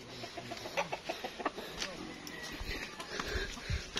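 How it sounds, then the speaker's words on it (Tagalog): Chickens on a farm in the hills cluck softly in a quiet, scattered rhythm while people talk close by. "Dami manok ni Kukoy."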